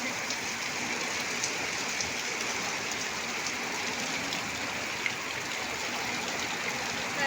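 A downpour in Kembhavi drums hard on the ground and leaves around curry-leaf, coconut and neem trees, a loud, even wash of rain that stays constant throughout with no other sounds over it.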